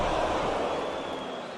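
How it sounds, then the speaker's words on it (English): Large wrestling crowd at a SmackDown event letting out a loud, sustained collective "ooh" reaction to Gunther's chops, a broad roar of voices that slowly fades. "Now the crowd oohing and eyeing with every one of these brutal, thunderous chops"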